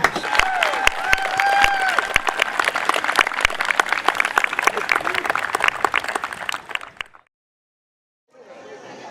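Crowd at a high school boys' varsity soccer senior night applauding and cheering, sustained clapping with whistles and shouts, then a sudden cut to silence before a faint crowd murmur returns.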